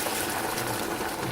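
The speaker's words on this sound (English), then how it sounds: "just put in about 4 cups of water" About four cups of water poured into a pot for Bengali dal: a brief, steady splashing gush, close and fairly loud, with no talk.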